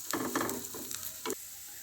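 Vegetables fry in a pan for a vegetable dal, giving a soft steady sizzle broken by a few quick scraping stirs of a spatula, close and fairly quiet.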